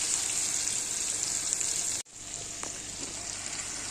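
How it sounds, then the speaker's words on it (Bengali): Potato and onion fry with salt in a pan, giving a loud, continuous close-up sizzle that drops out briefly partway, then resumes as a steady hiss. "আলুটা পেঁয়াজটা একটু ভাজা ভাজা করব,"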